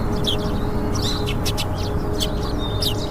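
A bird chirps and calls in short bright bursts as it lands on paved ground, repeated tweets over a steady, dense background hum of outdoor ambience.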